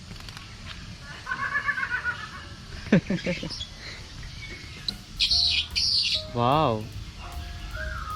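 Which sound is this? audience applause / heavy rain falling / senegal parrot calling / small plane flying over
senegal parrot calling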